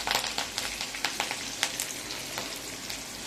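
Curry leaves sizzle and crackle in hot oil while potatoes cook, giving a close, busy frying hiss with scattered sharp pops and spits throughout.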